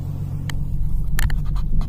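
A Ford Mustang drives slowly off-road on rough ground, with a loud low engine and tyre rumble and a few sharp scrapes and crunches from underneath in quick succession.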